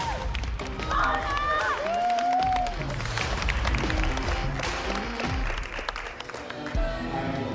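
Spectators at a bodybuilding competition clap and cheer at close range in a busy, echoing hall, with voices and shouts rising over the applause and a few thumps mixed in.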